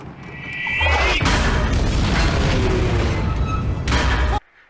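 A tank blows apart in a catastrophic kill in the war film Fury: a loud, sustained roaring explosion that swells and rumbles for several seconds before cutting off abruptly.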